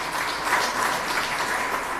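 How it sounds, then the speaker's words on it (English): At a handover ceremony for a television studio and control centre, a crowd gives a round of applause, a dense, even patter of clapping with no voices over it. "Round of applause, please."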